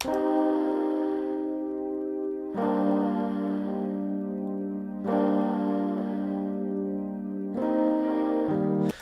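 Mellow Rhodes electric piano chords, low end cut, blended with a dull filtered sample in a beat mix, four sustained chord changes in a slow steady progression, no voices.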